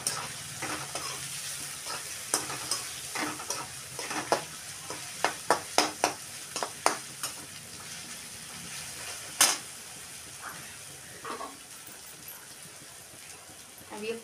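Onion and green chilli sizzle in a pan for biryani while a spoon stirs and taps in quick bursts, close by, with a person talking over it.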